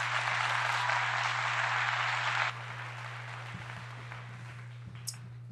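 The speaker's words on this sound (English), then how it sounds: "Round of applause for that." An audience applauds, a dense, even wash of clapping for about two and a half seconds that stops abruptly, leaving a steady low electrical hum and faint room noise behind it.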